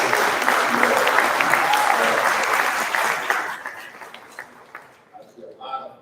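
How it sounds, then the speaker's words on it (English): Audience at a New York City life celebration for Dr. Mutulu Shakur applauds the event organizers, a dense, loud clapping wash with some voices mixed in that thins out and fades over the final seconds. "Let's give them a round of applause"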